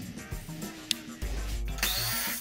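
A power drill backs screws out of the bottom of a wooden crate holding a Royal Sovereign RSC-1650 series laminator, with short whirring bursts and a louder sustained run near the end, fairly close and faint overall.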